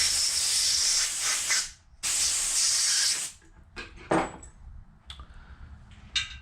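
Compressed air blasts metal filings out of a drilled, broken-off cylinder head stud on a Rolls-Royce Phantom III. Two long, close, loud hisses are followed by several short, sharp puffs.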